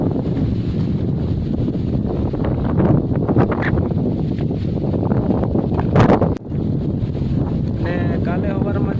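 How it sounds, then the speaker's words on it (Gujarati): Strong wind gusting steadily across open village farm fields, buffeting the microphone with loud rumbling roar that swells and dips, with a sharp crackle near the end. "પણ આ પવન એટલે બધા વાદળાને ફગાવી નાખે છે."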